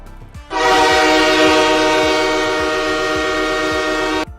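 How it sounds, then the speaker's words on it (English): Loud, sustained train air horn blast lasting nearly four seconds, sounded as a noisemaker during a live Steelers versus Bills football stream, steady and close with a sharp start and cutoff. "We got the train horn ready."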